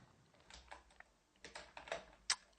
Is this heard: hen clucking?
no